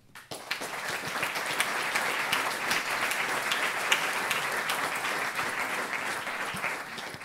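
Sustained audience applause at a French architects' association gathering, a dense, even wash of many hands clapping that swells in quickly and holds steady, heard alone without talk.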